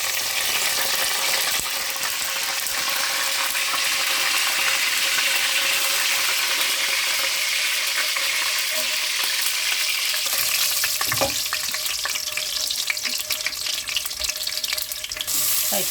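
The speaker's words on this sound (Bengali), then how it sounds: "এখন আমি জিরা দিব বাজা দিতে।" Cumin seeds frying in hot oil in a pan alongside cardamom and bay leaf for a beef spleen and liver curry, a steady loud sizzle throughout with a few brief clinks and stirring noises near the end.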